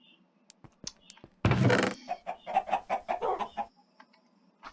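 Chickens in the video game Minecraft, a series of short, clipped clucks and squawks close up, beginning with scattered chirps, then a brief loud flutter burst followed by rapid rhythmic clucking that fades into quiet.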